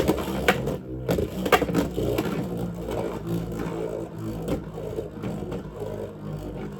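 Beyblade X spinning tops launched and clashing in a plastic stadium during a team battle, with dense rattling scrapes and sharp repeated impacts filling the clip at close range.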